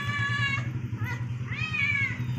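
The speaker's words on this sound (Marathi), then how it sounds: "कुणाला आवडते पिल्ल मांजराची आली बघा" A kitten meows several times in quick succession, high and close, over a low background hum.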